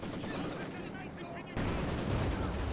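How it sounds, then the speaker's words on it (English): Dense, continuous gunfire and heavy explosive fire from a Company of Heroes 2 battle between Wehrmacht and Soviet forces, with armoured units firing. It grows louder and heavier partway through. "they're getting absolutely pummeled with furious firepower here of the Fatherland's armoured ranks"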